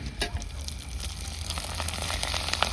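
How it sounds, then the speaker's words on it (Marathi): Bobya fritters frying in hot oil, a steady close sizzle and bubbling that grows slightly louder, with small pops and crackles throughout and no talking. "या ठिकाणी बॉब्या तळायचं चाललंय"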